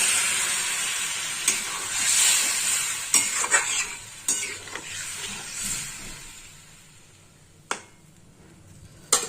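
Water added to a hot pan of fish and eggplant curry, bursting into a loud close sizzle and hiss that slowly dies down, with a few sharp clinks of a utensil stirring against the pan.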